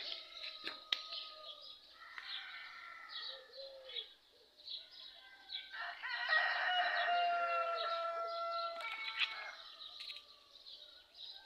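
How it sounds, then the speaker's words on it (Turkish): Roosters crow in the distance amid chirping birds, a soft, quiet farmyard morning with several drawn-out calls overlapping. "Horozlar ötüyor."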